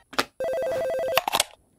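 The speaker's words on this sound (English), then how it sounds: "Oh, the phone's ringing." A telephone rings once, a short burst of rapid electronic trilling, loud and close, framed by brief noises before and after.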